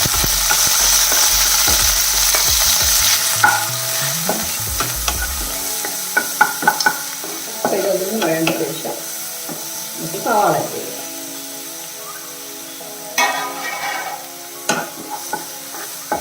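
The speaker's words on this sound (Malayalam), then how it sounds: "ചതച്ച് വെച്ചിരിക്കുന്ന ആ വെളുത്തുള്ളിയും പച്ചമുളകും ഉണ്ടല്ലോ അതിട്ട് കൊടുക്കുന്നു കറിവേപ്പില ഇട്ട് കൊടുക്കും" Crushed garlic, green chilli and curry leaves hit hot oil with a loud burst of sizzling that fades over several seconds, followed by stirring scrapes as a person talks.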